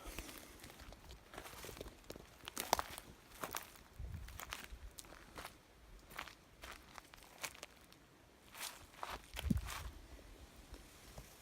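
Footsteps crunching through a Polish forest while mushroom hunting, a steady series of close, uneven treads on leaf litter and twigs with occasional sharper snaps, no voices.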